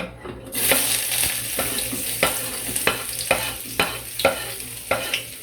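Onion and garlic sautéing in a pan for ginisang pechay with tofu, a constant close sizzle punctuated by regular rhythmic spatula scrapes and stirs about every half second.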